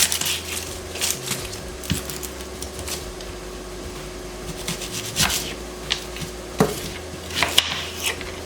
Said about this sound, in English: I'm going to go ahead and chop up half an onion